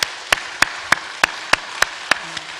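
Sharp hand claps sound in a steady, evenly spaced rhythm, about three each second, over a quiet background during a church worship service.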